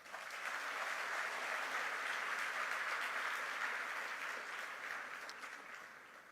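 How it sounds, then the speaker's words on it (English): A round of applause from a seated audience at a staged public event, steady and full throughout, heard from some distance and fairly quiet, tapering slightly toward the close. "Let's give them a good round of applause."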